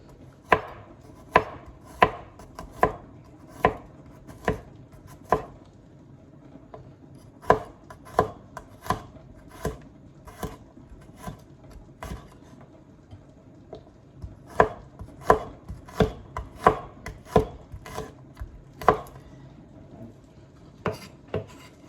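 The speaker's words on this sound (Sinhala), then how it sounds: "සුදු ලුණු මේ විදිහට අපි හීනියට පෙති කපා ගන්නවා." Garlic is sliced thinly with a knife on a cutting board, producing sharp, close chopping taps in uneven bursts, some quick runs and some pauses, over about twenty seconds with no voices.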